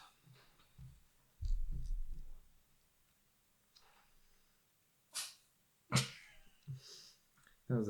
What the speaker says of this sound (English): That was a cat sneeze